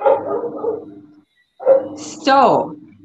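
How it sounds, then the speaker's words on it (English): A neighbor's dog barks in a short burst of yips and barks partway through, moderately loud and somewhat distant, with someone talking before and over it. "And if you hear a dog in my background, that's my next door neighbor's dog."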